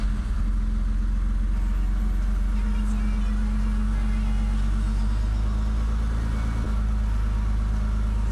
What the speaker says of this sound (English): that does idle a little bit smoother now